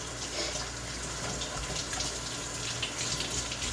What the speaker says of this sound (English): Let's clean my hands